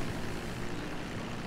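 A seaplane's propeller engine in GTA Online drones steadily and loudly as the aircraft sits on the ocean, forming a dense, even hum with no talk.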